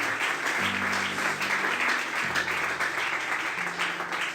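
A church congregation applauds during a Sunday service, with sustained clapping of many hands filling the room while a low musical tone or hum continues underneath.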